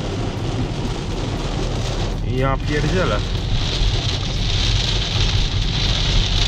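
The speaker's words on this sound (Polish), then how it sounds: "No, ściana wody spadła." Heavy rain pours down in a constant loud roar near Koszalin, Poland, with a man briefly exclaiming over it partway through.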